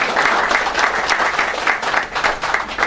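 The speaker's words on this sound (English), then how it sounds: "Can we a bit clap for him?" A seated audience at a civil-services orientation session claps together for a speaker, a dense, steady patter of many hands lasting a few seconds, close and loud.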